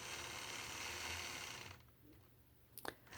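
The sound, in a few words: sewing machine quilting curved lines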